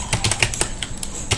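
Keys tapped on a computer keyboard while working in Photoshop, a quick uneven run of sharp clicks close to the microphone with no one talking.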